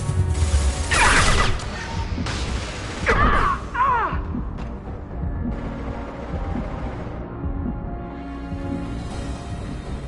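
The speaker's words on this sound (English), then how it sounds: "Get that shutter closed." A metal shutter's closing mechanism ratchets and clanks in loud mechanical bursts, with a grinding sweep partway through, then a lingering rumble as it settles shut amid a tense battle.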